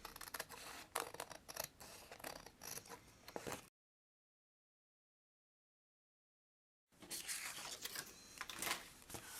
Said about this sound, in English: let's just give it a little trim.